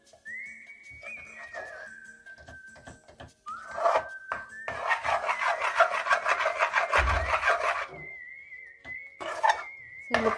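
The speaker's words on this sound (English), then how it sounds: "Mix it till you don't see any lump in it." Thick Mysore Pak batter being stirred and scraped in a pan, a steady rasping, rubbing sound that grows louder midway and continues in uneven strokes close by, with no talking.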